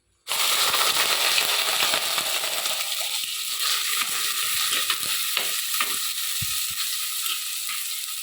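Fenugreek seeds spluttering in hot oil in a clay pot, a loud, steady crackling sizzle that starts abruptly and continues densely throughout, with scattered sharp pops close by.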